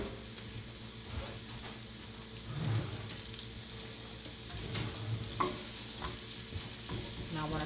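Orange bell peppers and Vidalia sweet onion sauté in a pan for a veggie omelet, making a soft, steady sizzle with occasional stirring scrapes, faint and continuous with no voices.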